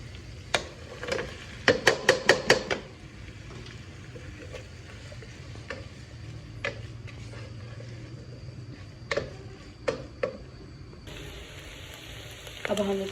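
Chicken fries in oil with softened garlic and green chili, a low steady sizzle broken by sharp clattering bursts of stirring and pan knocks, with a brief louder hiss near the end.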